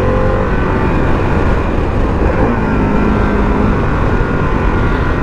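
A Harley-Davidson Pan America adventure motorcycle accelerating on the Interlagos circuit, heard as a steady, loud broadband engine and wind roar that holds without a break.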